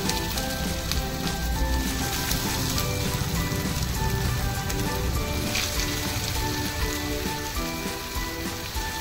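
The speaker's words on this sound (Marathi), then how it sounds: "तेल तापले, आपण आता पुऱ्या तळून घेऊ।" Rajgira bhaji puris deep-frying in hot oil, a dense, constant bubbling sizzle that holds loud and even, with no voices.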